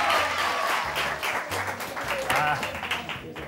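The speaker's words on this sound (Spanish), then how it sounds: "¡Aplauso para ellos!" Studio audience applause on a Spanish-language TV show, a loud, continuous wash of clapping filling the room, with a host's voice shouting over it and low music underneath.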